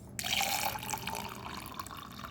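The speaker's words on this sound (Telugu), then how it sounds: "వీటిలో వాటర్ వేస్తున్నా." Water poured into three identical glasses holding lemons, a bright splashing trickle that rises quickly and keeps running steadily, close and fairly loud, with no talking.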